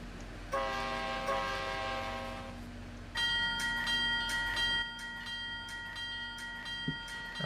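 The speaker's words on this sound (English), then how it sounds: "This horn sound was made by me too" A custom train horn in the Trainz Simulator railway game sounds as two long, steady, chord-like blasts in succession over a low rumbling engine hum, loud and close with no talking.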